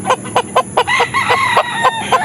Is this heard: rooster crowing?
yes